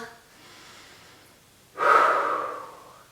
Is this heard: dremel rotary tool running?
no